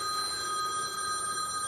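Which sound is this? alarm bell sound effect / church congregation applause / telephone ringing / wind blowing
telephone ringing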